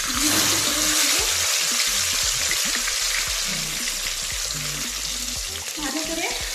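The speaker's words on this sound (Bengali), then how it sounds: "এর মধ্যে আমি টমেটো আর কাঁচা লঙ্কাটা দিয়ে দেবো।" Tomatoes and green chilies fry in hot oil with panch phoron for a Bengali paneer kabli, giving a steady, close, dense sizzle broken by scattered clicks and scrapes of stirring throughout.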